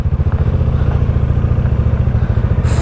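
Motorcycle engines idle and putter close by for a few seconds as bikes are stopped and parked, a steady pulsing chug with faint clatter and no talk.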